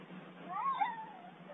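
A very large domestic cat, big enough to be mistaken for a bobcat, lets out one drawn-out, wavering meow that bends into a howl, close and clear over faint background hum.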